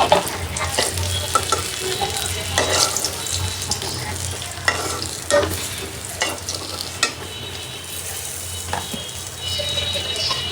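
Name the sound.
katla fish frying in a pan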